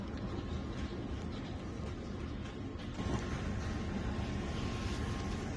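Steady, broad droning ambience inside London City Airport, with a low, continuous rumble of aircraft and machinery in the background, even in level throughout and with no clear talking.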